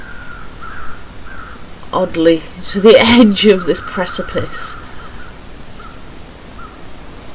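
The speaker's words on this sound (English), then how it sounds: "Let's see what these crows are circling." Crows cawing in the snowy wilderness of The Long Dark, a few harsh calls heard under and between a man's speech.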